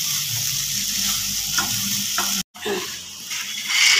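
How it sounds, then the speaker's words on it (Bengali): Drumstick vegetable sizzles loudly in oil after ground cumin goes in for a Bengali chorchori, with a steady frying hiss and a few stirring scrapes, a brief dropout midway, no voices. "এই জিরের গুঁড়োটা দিয়ে এবার একটু মিক্স করা হবে।"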